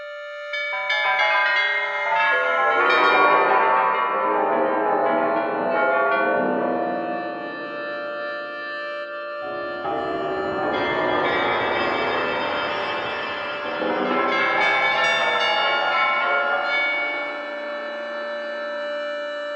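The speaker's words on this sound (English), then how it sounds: "you'll hear brighter, more metallic, bell-like timbres, this time generated via frequency modulation synthesis" Metallic bell-like tones from frequency modulation synthesis ring out alone in two long sustained swells, each bright, shimmering chord slowly blooming and decaying, loud and continuous throughout.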